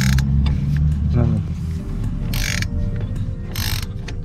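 A lug wrench turns a bolt on the suspension of an Alfa Romeo, giving creaking, ratcheting mechanical strains and a few brief metallic clicks over a low rumble, close by.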